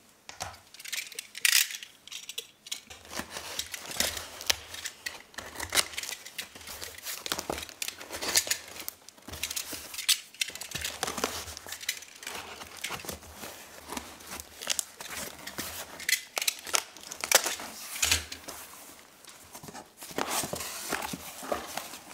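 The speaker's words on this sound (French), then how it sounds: "je suis impatiente enfin de pouvoir le déballer avec vous" A well-packed parcel is unwrapped up close: irregular bursts of crinkling and tearing plastic and bubble wrap, with rustling handling noises and occasional light knocks throughout.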